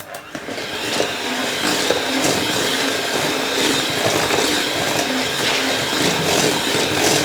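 Loud, continuous whirring of an electric mixer beating milk into vanilla cupcake batter, steady and close throughout with a rough, grinding texture.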